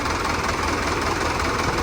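A farm tractor engine idles and chugs steadily at close range with a heavy, knocking low rumble, continuous and unbroken with no voices.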